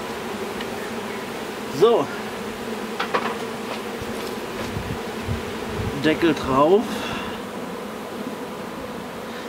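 Honeybee swarm being captured and housed into a hive box, with a faint, steady insect hum under handling knocks and someone speaking briefly in German.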